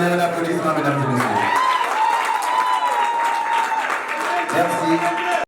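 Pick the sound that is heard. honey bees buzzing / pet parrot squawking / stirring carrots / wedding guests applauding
wedding guests applauding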